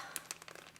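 Ziploc freezer bag of wine for slushies being zipped shut, a few sharp plastic crinkles and clicks in quick succession, close and fairly quiet.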